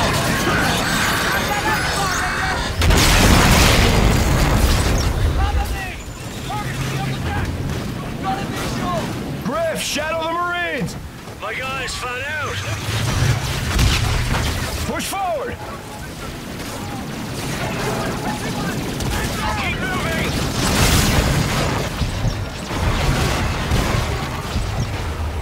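Explosive booms from an aircraft shot down in Call of Duty: Infinite Warfare on PlayStation 4 Pro, with loud broadband blasts near the start and again later, mixed with game sounds while someone talks.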